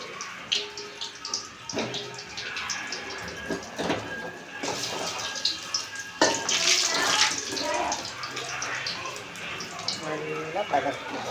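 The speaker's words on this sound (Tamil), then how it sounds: "அப்படியே தண்ணி பிடிச்சிக்குவோம்." Tap water runs and splashes into a kadai pan being washed in a home kitchen, an uneven nearby stream with clinks and surges while a person talks over it.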